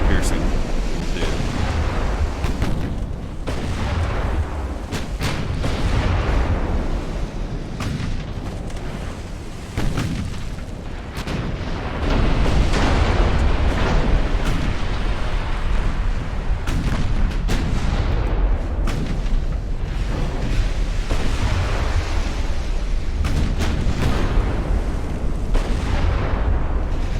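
Battleship main guns firing armor-piercing shells in Ultimate Admiral: Dreadnoughts, heavy booming salvos and rumbling blasts over a steady sea-wash roar, with a voice talking at times.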